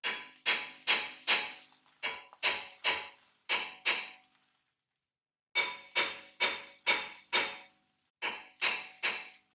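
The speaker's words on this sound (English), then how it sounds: "I'm just going to take this drilling hammer and I'll hit the face" Sharp metallic blows of a drilling hammer on a rusted brake rotor of a 2006 Honda Odyssey ring out in quick bursts of three or four, loud and close, with a short pause midway.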